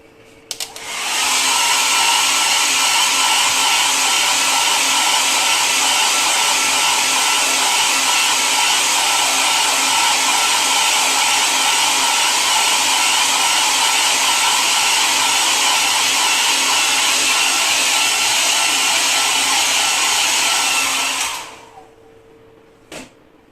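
A hair dryer blows over a painting, running as a loud, steady whir for about twenty seconds before switching off.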